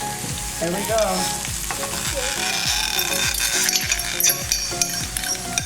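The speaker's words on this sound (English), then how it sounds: "so that I can cook the egg at this other side" Egg cooking in a hot pan beside breakfast sausage for fried rice gives a steady close sizzle, with repeated light clinks and scrapes of a utensil stirring and a brief voice.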